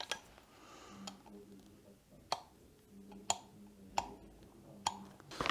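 A Comandante hand coffee grinder's setting dial gives about six crisp, sharp clicks at irregular intervals, close and distinct against a quiet background.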